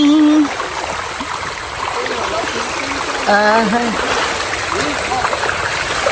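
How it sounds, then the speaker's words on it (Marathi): Shallow stream water babbling and trickling over stones in a rocky creek, a steady close gurgle with a few splashes while people talk briefly over it. "प्रीतीचं झुळझुळ पाणी"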